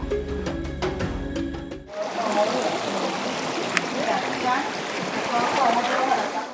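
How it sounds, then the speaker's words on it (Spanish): Steady rushing water of a flowing mountain river fills the scene after a brief burst of voices and tones, continuous and fairly close, with occasional splashes. "Por allá se escucha el río."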